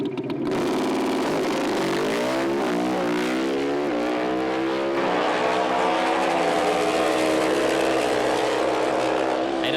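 A Harley-Davidson powered drag racing motorcycle makes a full pass down the strip at close to 300 km/h, a loud sustained engine roar with rising harmonic pitch through the gears, close and continuous throughout.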